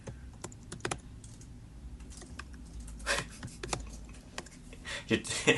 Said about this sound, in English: I can really hear the keys on your keyboard.